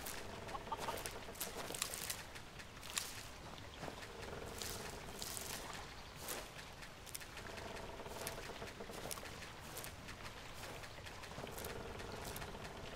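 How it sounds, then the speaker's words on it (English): Chickens cluck at a coop in the video game Legend of Cato, a busy stream of short, faint clucks and pecking patter repeating steadily over a quiet ambient background. "Chicken coop? This beast."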